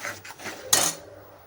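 A spoon scrapes and stirs semolina just poured into boiling salted water in a pot, giving a few soft rubbing strokes followed by one louder, brighter scrape, close and with no voices.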